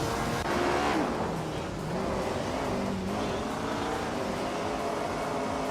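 Race car engines roar together at the start of a race at the Berlin Prix, led by a 1967 Brabham B24, with a dense, continuous loud drone of several revving engines shifting pitch as gears change.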